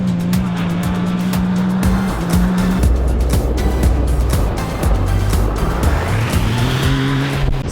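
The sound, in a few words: Yamaha YXZ 1000R buggy, 3-cylinder 1-litre engine driving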